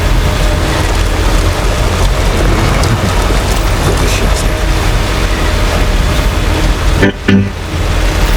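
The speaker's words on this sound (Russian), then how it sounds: "А дождь так и не прекращается, да?" Steady rain falls in the video game Death Stranding as a loud, dense, continuous hiss that fills the whole stretch, briefly broken near the end by a short thump and a dropout.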